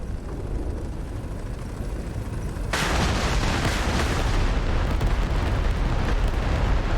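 Cluster munitions go off inside a city in a war video game: a low rumbling roar that jumps suddenly to a loud, dense wash of blasts and crackle, then keeps going without a break.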